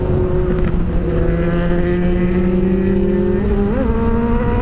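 A truck drives past in city traffic, its engine a loud, steady drone with a rising tonal hum and a brief pitch wobble near the end, close and with no voices.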